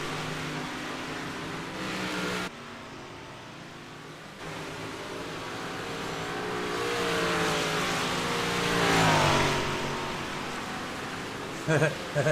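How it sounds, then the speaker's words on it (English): Race car engines roar around the track at a Wide-Open Wednesday event, a sustained loud drone that swells as a car passes, with an announcer talking over it throughout. "That's a funny looking car."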